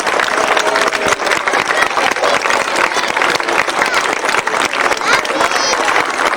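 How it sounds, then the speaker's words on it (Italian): Applause and crowd noise at a twentieth-anniversary party for a community friendship group in San Giovanni Suergiu, as a cake is brought out; dense, continuous clapping mixed with voices fills the whole stretch. "facciamo un applauso!"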